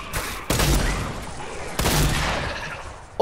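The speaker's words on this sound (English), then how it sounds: "This shotgun slays these niggas" Two loud shotgun blasts ring out in the Fortnite video game, each with a sharp attack and a decaying tail, spaced more than a second apart, with a faint click at the end.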